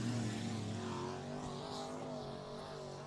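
IMCA modified race cars run on the dirt oval at Barona Speedway in Lakeside, California, a steady distant engine roar with a gently falling pitch as the pack circles, no talk over it.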